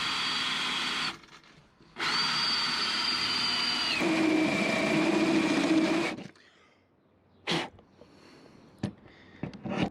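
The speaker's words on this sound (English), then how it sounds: "So there we go, 1 hole drilled in the van." A power drill bores a hole through the metal body of a micro campervan to fit a 160W solar panel, running in two bursts with a pitch drop as it bites, followed by quieter handling noises.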